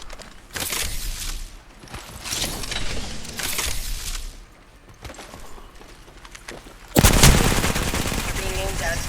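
Bursts of gunfire in a Valorant match, several loud volleys spaced across the stretch with a sharp, dense burst near the end, heard alone without talk.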